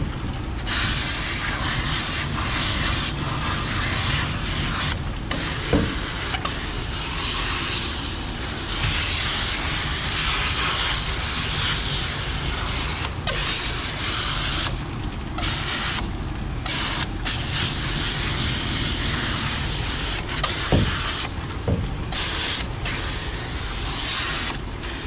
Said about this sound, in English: So I'm really gonna spray it down in here on these legs.